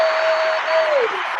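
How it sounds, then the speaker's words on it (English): Audience applause at a gathering for student athletes, a steady wash of clapping with a crowd voice or a sustained tone riding over it, brief and fairly loud. "You got the applause"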